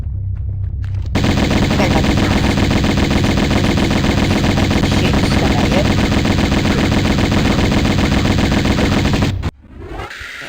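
Enemy gunfire in Tomb Raider I Remastered, a loud sustained burst of rapid machine-gun shots lasting several seconds before cutting off abruptly, followed by a brief quieter tail.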